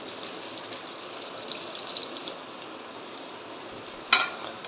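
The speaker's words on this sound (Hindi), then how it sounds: "शिमला मिर्च भी हाफ फ्राई हो गया है, इसको हम निकाल लेंगे" Capsicum half-fries in a pan for paneer and capsicum sabzi, giving a steady soft sizzle throughout, with a brief clatter near the end.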